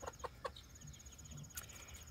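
A Barred Rock hen clucks close by in a backyard flock, giving three quick soft clucks followed by quieter murmuring and a brief later call.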